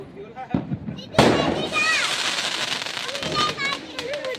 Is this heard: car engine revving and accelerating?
no